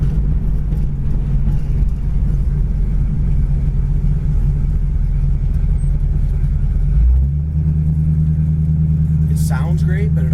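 A 1968 Ford Mustang with a heavily built drivetrain idles with a steady, deep rumble, close and loud, the tone shifting slightly lower partway through.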